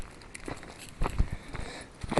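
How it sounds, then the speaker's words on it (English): Footsteps crunch across a dry riverbed as someone walks, a few uneven, close steps with scuffing grit, louder bursts around the middle and end, and no speech. "The only thing about recording when you're walking, the noise of the footsteps."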